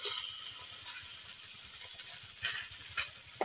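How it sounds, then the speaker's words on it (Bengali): Soaked vegetable stems sizzle steadily in a pan with other vegetables for Bengali neem shukto, a constant close crackle broken by a few louder bursts as the food is stirred. "সবজিগুলোর সাথে আরেকটু ভেজে নেব"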